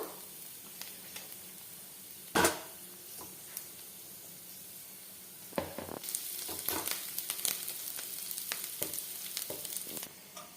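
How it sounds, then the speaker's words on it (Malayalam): Grated coconut being roasted with cashew nuts in a pan, soft sizzling and stirring with a sharp clatter early on, then brighter frying noise and scraping as the coconut goes in. "ഇനി നമുക്കിതിലേക്ക് നമ്മുടെ ചിരകിയ തേങ്ങ ചേർത്ത് കൊടുക്കാം"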